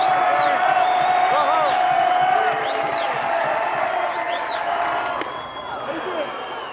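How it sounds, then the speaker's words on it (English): A college baseball crowd at Nebraska's home park in Lincoln roars and cheers in a sustained wash of noise, with whistles and whoops rising above it while an announcer talks over the din. "Listen to this crowd here in Lincoln."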